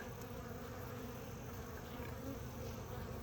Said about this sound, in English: Cloud of bees here at the hive.